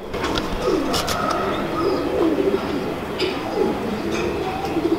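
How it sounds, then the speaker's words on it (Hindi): Pigeons kept by a pigeon fancier coo in soft, repeated throaty rolls, several birds overlapping close by, with occasional light chirps and rustling in the background. "आज आपको हमने उस्ताद मोहकम साहब के कबूतर दिखाए"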